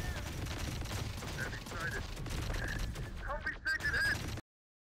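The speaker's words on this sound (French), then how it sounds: "on se fait allumer par des homoncules avec des fusils à plasma" Plasma rifle gunfire in the Terminator Dark Fate Defiance game comes as scattered bursts and crackling shots over battlefield noise, with a spoken voice partly over it, before the sound cuts out abruptly.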